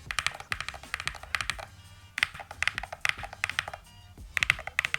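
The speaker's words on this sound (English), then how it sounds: "Now let's do a quick sound test." Fast bursts of typing on a KiiBOOM Cybrix29 one-handed gaming keyboard with Hall effect switches, made up of close, crisp clacking keystrokes in quick clusters separated by short pauses, with no talking.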